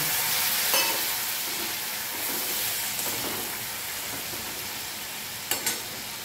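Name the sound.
water added to frying onion, ginger and garlic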